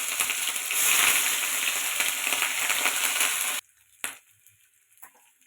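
Ginger paste fries in hot oil with bay leaves, dried red chilli, garam masala and cumin seeds, giving a loud, dense sizzle that cuts off abruptly, followed by a couple of faint clinks and taps in near silence.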